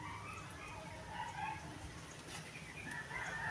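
A mother hen clucks softly in a Filipino backyard as a chicken feeder is being built, the low calls faint and steady against rustling background noise, with other voices present.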